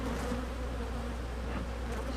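Honeybees from an opened, abandoned hive buzz close to the camera, a continuous, steady drone with a few louder passes as bees fly near, no talking.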